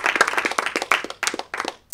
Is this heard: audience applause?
yes